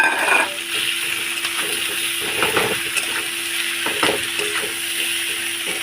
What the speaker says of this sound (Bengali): মোচা সেদ্ধ আর কাঁচা লঙ্কাটাও দিয়ে দেবো দিয়ে এটা ভালো করে নেড়ে দেবো